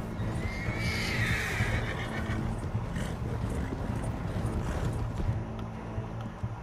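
Horse neighing and hooves in the Red Dead Redemption 2 video game: a loud, drawn-out whinny rises early, over a continuous bed of clopping hoofbeats and game ambience.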